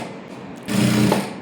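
A sewing machine stitches a child's princess-cut silk blouse, a low mechanical whirring rising after a quiet start and running steadily for about half a second before easing off, close and alone.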